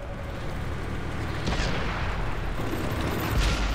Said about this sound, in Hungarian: Itt pedig kemény vagyok és automatával lövök